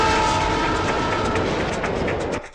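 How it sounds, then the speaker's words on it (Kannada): A train pulls out of a station along the railway tracks with a loud, dense rumble and rattle of wheels and carriages, close and continuous, before it briefly drops away at the end. "ಟ್ರೈನ್ ಸ್ಟೇಷನ್ ಇಂದ ಹೊರಟಿದೆ"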